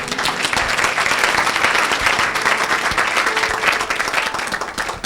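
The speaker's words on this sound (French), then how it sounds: "Quelqu'un acclame le Seigneur." A church congregation at a charismatic worship service applauds and cheers in praise of the Lord, a dense, loud and continuous burst of clapping and crowd noise filling the whole stretch.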